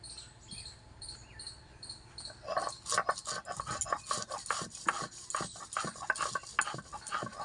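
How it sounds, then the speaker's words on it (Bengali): Mustard flowers are ground by hand on a stone grinding slab: faint rhythmic scraping and knocking strokes that begin after a quiet start and repeat unevenly at close range. "এখন একটু এটা শিলে শস্য ফুলটা বেটে নেব"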